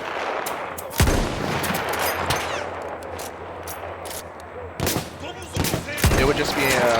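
Rifle shots in the video game Battlefield 1 crack loudly and sharply, with one around the first second and a cluster of reports near the end, over a dense rumbling battle background; someone talks between shots.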